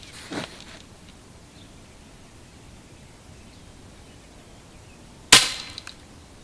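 Winchester 1977XS air gun firing a BB after two pumps, a sharp, loud single crack near the end preceded by a faint earlier pop, with quiet outdoor background in between.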